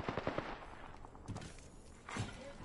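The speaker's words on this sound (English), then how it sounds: "Opening fire on the enemy." Rapid machine gun bursts fire in the Apex Legends video game on PS4, a quick string of sharp shots at the start followed by scattered gunfire and impacts, with no talking.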